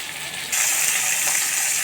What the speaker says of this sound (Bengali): এরপর আমি আলুগুলো লাল লাল করে ভেজে নেব।